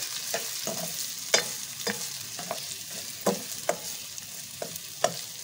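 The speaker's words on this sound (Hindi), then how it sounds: "इसके साथ ड्राई फ्रूट्स के साथ हम इसको रोस्ट करेंगे" A spoon scrapes and stirs vermicelli and dry fruits roasting in a pan, giving steady light sizzling with irregular sharp clinks against the metal, close and unaccompanied.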